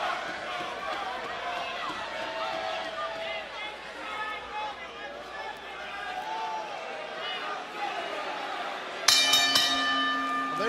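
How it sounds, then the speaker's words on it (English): Wrestling ring bell clangs near the end, bright ringing tones cutting in over arena crowd noise and commentator talk at a live TNA event. "There's the bell. The matchup is underway."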